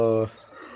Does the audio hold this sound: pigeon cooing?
yes